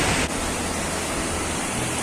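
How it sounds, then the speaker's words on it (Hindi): Foaming river water rushing at the Devprayag Sangam confluence in Uttarakhand, a loud, steady broadband roar like a waterfall, unbroken, with no talk. "ये पानी से जो झाग पैदा हो रही है ना, मेरे को बहुत अच्छी लगती है ये। और जो इसकी आवाज़ है मेरे को वो भी बहुत अच्छी लगती है।"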